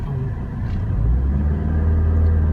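A Chevrolet car engine turns over and settles into a steady, deep idle rumble that swells and holds close by outdoors, loud and continuous with no talking.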